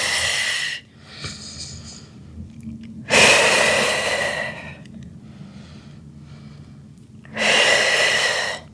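Deep breathing during a Pilates workout: three long, loud, breathy exhalations close to the mic, separated by quieter inhales and soft background hiss.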